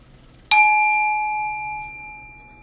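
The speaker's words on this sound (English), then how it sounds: "That is the closing bell of today." A single bell or singing-bowl tone is struck once to close a meditation session, ringing out loudly and clearly with a long sustained decay and no talk over it.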